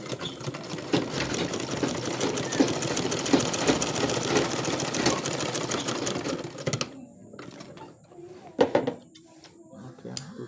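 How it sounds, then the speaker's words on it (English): Sewing machine running steadily for several seconds while stitching down a trouser welt pocket, a dense mechanical whir up close, then stopping, followed by brief handling noises and a voice. "Okay, so you sew straight just to hold it down."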